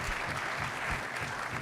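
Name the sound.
applause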